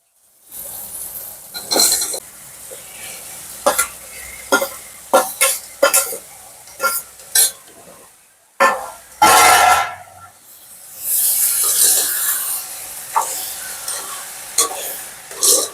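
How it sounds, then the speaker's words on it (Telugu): Tomatoes fry in a pan, with a soft sizzle under repeated sharp scrapes and stirring knocks of a spatula, broken by a short pause and a louder burst of hissing toward the end. "కొద్దిసేపు వేగాలి."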